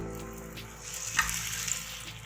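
A chicken cheese sandwich fries in a pan over a low flame, giving a steady, soft sizzle close by with a brief louder crackle midway and no talking.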